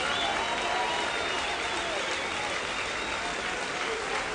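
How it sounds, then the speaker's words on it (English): A big baseball stadium crowd in Auburn, at a college game against Princeton, cheers and applauds in a steady, dense roar that holds at full strength for the whole stretch. "Big crowd on its feet here in Auburn."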